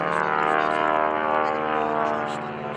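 Radial engine of a Stearman biplane performing aerobatics at a Blue Angels homecoming airshow, a steady loud propeller drone with harmonic pulsing that fades slightly as the aircraft tumbles.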